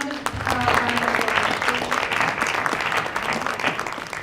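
An audience applauds at the close of an economic justice forum, a moderate, crackling round of clapping that swells early and then holds steady, with a few sharper individual claps standing out.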